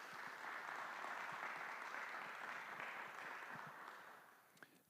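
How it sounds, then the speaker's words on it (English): Steady applause from an audience fills the room, a dense patter of clapping that gradually thins and fades toward the end. "Let's give them a round of applause"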